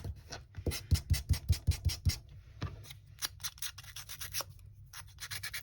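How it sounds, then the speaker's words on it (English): Abrasive sanding disc scraped over craft cardstock in a burst of quick, rhythmic rubbing strokes, then slower scattered scratches, close and fairly quiet with no talk. "I'm gonna grab my sanding disc and just sand over it"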